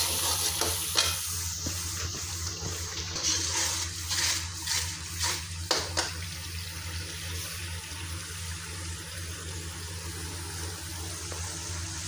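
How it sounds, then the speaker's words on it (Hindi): Steady sizzling of ginger, garlic and green chili paste frying in a pan, with occasional scraping and stirring sounds over a continuous low hum. "अदरक लहसुन और सब्ज़ मिर्चों का पेस्ट। इसको थोड़ी देर भून लेंगे"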